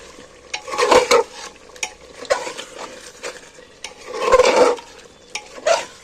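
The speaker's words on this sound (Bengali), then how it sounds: "এবার সব মশলাগুলো দিয়ে এবার আমি নাড়াচাড়া করে নিই" A spoon stirs spices through hot oil in a cooking pan for chicken curry, scraping and clinking in uneven bursts with a soft sizzle underneath, close and fairly loud, with no talk.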